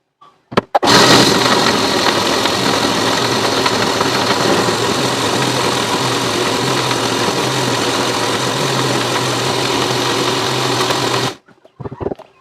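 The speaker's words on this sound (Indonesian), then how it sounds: "Aku bakalan blender, tapi di sini aku ngeblendernya itu pakai minyak ya." A kitchen blender grinds spice paste with used cooking oil, giving a loud, steady motor whine. It starts abruptly, runs for about ten seconds, then cuts off, with no talking over it.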